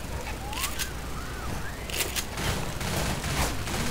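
Repeated shotgun blasts in the Left 4 Dead 2 zombie shooter, sharp bursts scattered over a busy, noisy game background with continuous chaotic ambience and no talking.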